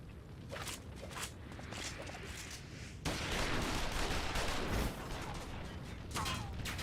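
Gunfire crackles in a Final Fantasy XIV cutscene, with bursts of shots and mechanical clatter that grow louder midway through.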